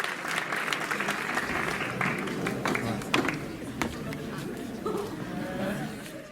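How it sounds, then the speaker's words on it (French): Audience at a French comedy evening show applauds loudly and steadily for several seconds, a dense wash of clapping with a few voices calling out in the crowd. "Applaudissez-le très fort"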